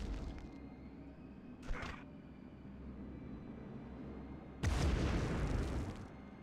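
A grenade goes off in Medal of Honor, a single loud, close blast with a rumbling tail, preceded by a couple of short sharp pops over a low background drone.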